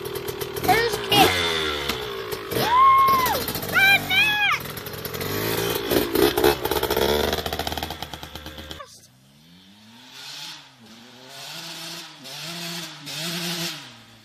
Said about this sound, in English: And he's gonna kickstart it. There you go, Drew. Hear that? The sound of victory. First kick.